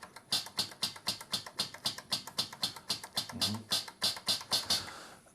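Metallic noise hi-hat voice from a Jomox Alpha Base drum machine with the sample turned down, ticking in a steady rapid sequence of crisp, even hits, loud and alone.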